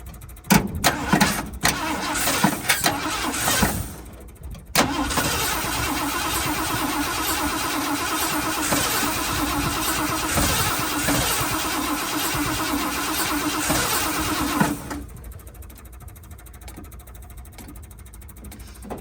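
An old, long-abandoned Ford F350 engine cranks repeatedly, starting with a few short bursts, then a long steady churn that stops abruptly. Faint background sound follows.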